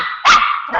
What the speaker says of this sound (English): Sorry, I saw a dog.